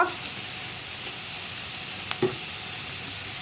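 Chapati noodles frying in a pan as soy sauce and tomato sauce are stirred in, a steady close sizzle with a couple of brief clinks of the spoon against the pan.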